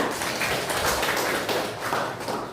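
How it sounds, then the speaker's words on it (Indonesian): A classroom of pupils applauds a student named Nisa during a school lesson, a dense, steady patter of many hands clapping together throughout, fairly soft and alone without talk. "tepuk tangan untuk Nisa"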